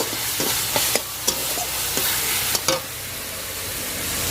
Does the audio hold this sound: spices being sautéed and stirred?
yes